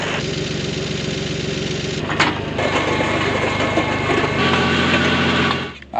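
The small engine of an earth auger digging a hole runs steadily and loudly with a buzzing, rattling drone, its pitch and load shifting partway through before it cuts out near the end.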